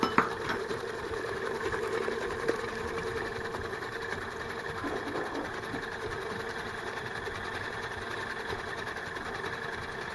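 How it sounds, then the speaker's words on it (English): An electric mixer beats cookie dough with two whole eggs added, giving a steady, continuous motor whir with a faint rattle that runs unbroken from start to finish. "I'll turn up the mixer and get some more air in there."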